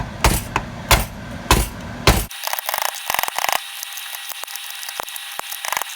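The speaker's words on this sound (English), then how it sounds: "I used a pair of vice grips. I tapped it pretty hard" Vise grips tapping a brittle red tail light reflector, four sharp loud knocks at the start, then a run of lighter rapid taps and scraping clicks against the plastic.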